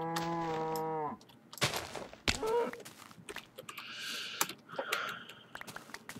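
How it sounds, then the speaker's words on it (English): A Minecraft cow moos once up close, a long harmonic low call lasting about a second, followed by scattered game noises: footsteps, thumps and hissing effects. "Cow, what are you doing up there?"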